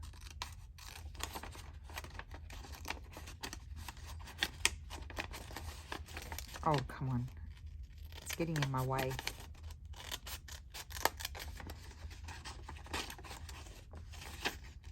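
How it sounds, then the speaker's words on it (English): Scissors snip through junk material for a crafting project, soft close cuts and scraping paper sounds scattered through the clip, faint beneath a woman's brief muttered remarks. "I think I'll cut with these scissors."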